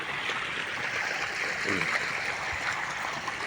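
Irrigation water runs steadily into a wheat field on a farm, a continuous, close gurgling rush of flowing water with no pauses throughout.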